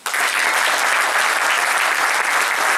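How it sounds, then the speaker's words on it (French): Sustained applause from an audience at an Independence Day and Green March commemoration in Montigny-lès-Cormeilles near Paris, a steady, dense clapping that fills the whole stretch at even loudness with no talk over it. "Et je vous applaudis."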